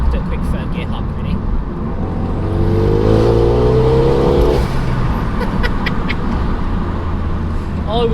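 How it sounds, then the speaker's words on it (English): A car engine revs up through third gear, its rising exhaust drone loud and close, then settles back to a steady hum. "See if we can get a bit of the old exhaust on the go."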